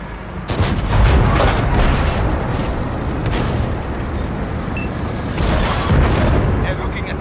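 Tank main gun firing in World of Tanks on Xbox One, heavy booming blasts near the start and again toward the end over a dense rumbling battle bed, with voices talking throughout.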